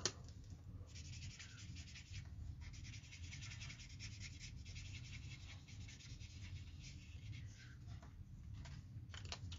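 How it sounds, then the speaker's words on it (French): A marker draws across a small paper envelope with soft, continuous scratchy strokes that come in short bursts, close up and quiet. "je vais juste aller faire au marqueur la petite enveloppe"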